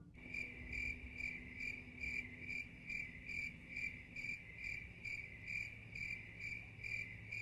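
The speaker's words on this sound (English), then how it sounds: "Crickets." Crickets chirp in a steady, evenly pulsed rhythm, continuous and fairly quiet over a faint low hum, with no voices present.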